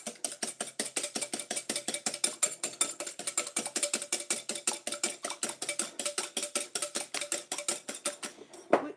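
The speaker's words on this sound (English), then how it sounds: "Let me get my whisk. Beat up these eggs." A whisk beats eggs in a bowl with fast, steady metallic clicking strokes in an even rhythm, close and fairly loud, going on throughout with no talking.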